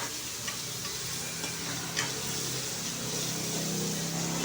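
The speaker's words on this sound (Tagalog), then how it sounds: "Tapos yung pork, sabay ko na rin ng gisa." Pork, onion and tomato sauté in a pan for mung bean stew, a steady bright sizzle with a few soft clinks of a spoon stirring near the start.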